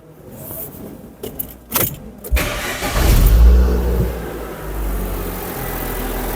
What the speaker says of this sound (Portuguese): Vamos dar o play novamente da partida no carro